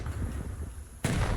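A grenade goes off during a competitive video game match: a sudden sharp blast breaks a quiet background and rings on briefly.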